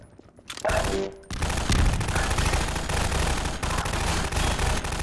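A sudden loud blast fills a Half-Life 2 game scene and turns into a sustained roaring, crackling rumble of rapid gunfire-like bursts that lasts several seconds with no talking.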